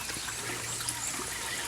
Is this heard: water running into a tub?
yes